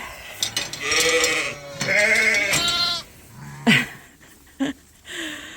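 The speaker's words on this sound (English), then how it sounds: "Silly sheep." Sheep bleat loudly in a few drawn-out, wavering calls, followed by shorter, sharper bleats nearby.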